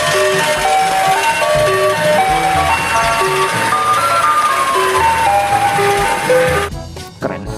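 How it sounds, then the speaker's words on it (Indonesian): An ice cream truck plays its chiming jingle melody loudly and steadily for most of the stretch, then cuts off into brief rustling noise near the end. "Wah, ini mobil es krim."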